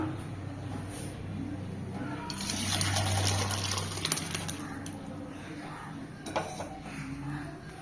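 Rasam soup pours into another pot with a gushing, splashing sound for a few seconds, loudest in the middle, over a steady low background hum.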